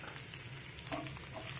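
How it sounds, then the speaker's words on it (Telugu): Dried red chillies frying in hot oil with half-roasted dal in a pan give a faint, steady sizzle with a few soft crackles and stirring scrapes. "హాఫ్ వేగిపోయిన దీంట్లో మిరపకాయలు వేయించుకుంటున్నాం"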